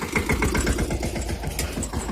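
A tractor engine runs on a farm during harvest work, with a steady, loud, rapidly pulsing diesel chug that continues without pause.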